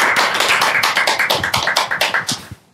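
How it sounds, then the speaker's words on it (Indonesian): A single person claps hands in a quick, steady run of about fifteen sharp, close claps that fade slightly toward the end. "Tepuk tangan lu deh."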